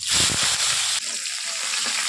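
Onions frying in hot oil with cumin for a Bengali rohu fish curry, a loud, steady close sizzle with watery crackle, briefly stirred near the start, then settling into an even hiss.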